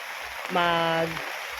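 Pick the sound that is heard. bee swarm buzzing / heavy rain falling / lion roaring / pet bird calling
heavy rain falling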